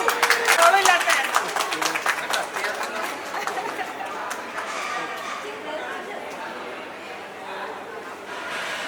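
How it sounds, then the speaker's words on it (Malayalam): An audience at the Thirimali film premiere breaks into a burst of clapping that fades into loud crowd chatter, with people talking throughout. "ഒന്ന് ക്ലാപ്പ് ചെയ്യൂ."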